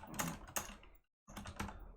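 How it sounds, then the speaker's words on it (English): Typing on a mechanical keyboard with red switches, two rapid bursts of close, busy key clatter separated by a short silent gap, with no voices. "it also filters out the keyboard sounds as well"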